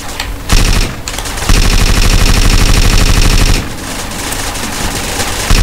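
Rapid machine-gun style gunfire from a crouching character in GTA San Andreas, loud and continuous bursts with a brief pause, then sustained rattling shots, no talking.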